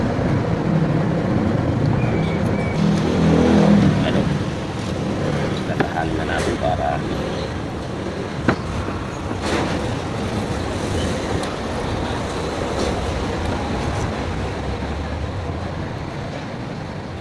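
Steady road traffic rumbles beside a roadside truck repair job, with passing vehicles, occasional clanks and a continuous low drone while people talk over it nearby.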